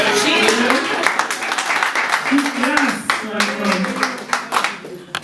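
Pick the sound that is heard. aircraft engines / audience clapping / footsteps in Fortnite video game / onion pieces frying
audience clapping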